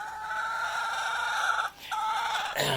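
A backyard chicken squawks loudly up close in a drawn-out, strained call, pauses briefly, calls again, then lets out a sharp final squawk.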